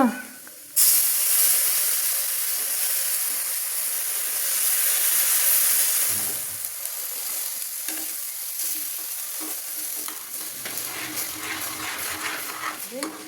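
Milk poured into a hot pan of reddened rice, a loud hissing burst that settles into a sustained sizzle and steam, with scraping stirs and a faint voice toward the end.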